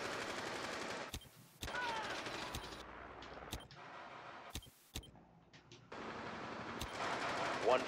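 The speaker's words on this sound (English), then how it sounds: "Holy shit, just firing through that wall." Gunfire shot through a wall in a tactical shooter video game, with sharp repeated bursts and single cracks separated by brief silent gaps over several seconds.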